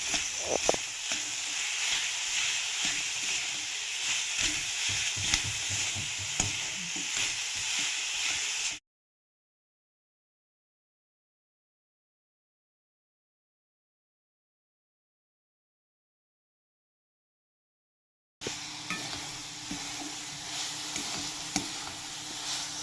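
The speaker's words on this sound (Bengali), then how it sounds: "নারকেলটা একটু ভেজে নিয়ে আখের গুড় দিয়ে ভালোভাবে পুরোটা তৈরি করে নিচ্ছি" Grated coconut frying with sugarcane jaggery in a pan, a continuous sizzle with stirring scrapes, broken by a long stretch of total silence before the sizzling resumes.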